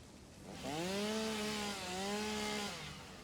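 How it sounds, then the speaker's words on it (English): Chainsaw cutting through foliage in the factory-building game Satisfactory, a steady mid-loud buzzing whine that rises and dips in pitch over about three seconds, heard alone. "Let's chainsaw this stuff out of the way."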